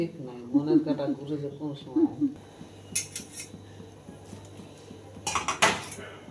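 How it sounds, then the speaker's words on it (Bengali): Someone talks while pitha is stirred in a steel pot, with metallic scrapes and clinks of a utensil against the pot rising in short bursts between and after her words. "এইভাবে পিঠা দিবে আর এইভাবে আস্তে আস্তে আস্তে আস্তে নেড়ে রাখতে হবে, কারণ এটা স্টিলের পাত্র"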